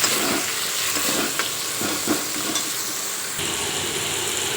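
Spice paste with salt frying and being stirred for khichuri, a steady close sizzle with scraping stir strokes and no talk.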